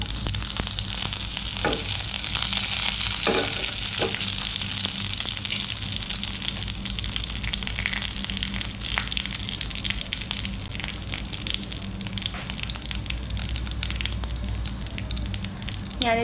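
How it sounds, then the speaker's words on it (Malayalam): Curry leaves and broken dried red chillies crackle in hot oil with mustard seeds for brinjal curry, a dense, steady close sizzle with scattered pops and a few stirring clinks, and no voices. "അതുപോലെ കുറച്ച് കറിവേപ്പില ഇട്ടുകൊടുക്കുക"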